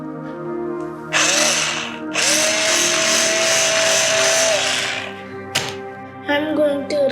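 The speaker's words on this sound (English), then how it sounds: "I am going to show drilling machine." An electric drill whirs loudly in two long bursts, pitch steady, followed by a short stop and a brief restart near the end.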